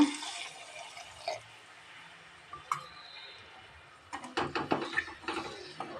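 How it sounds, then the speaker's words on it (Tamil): Water splashes and trickles into a pan of frying ivy gourd gravy, followed by a burst of clinks and sizzling spatters close by. "ஒரு 1/2 டம்ளர் தண்ணி ஆட் பண்ணிக்கலாங்க."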